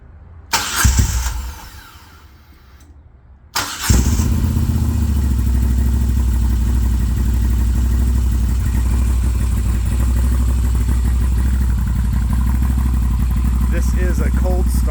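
A 2021 Moto Guzzi V7 850 fitted with a Mistral exhaust cold-starts after a brief crank, then settles into a loud, steady, throbbing idle close by, with someone speaking over the start.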